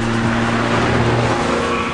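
A Ferrari F430 Scuderia driven on an ordinary road gives a loud, continuous engine roar, close and steady for the whole stretch, with no voices.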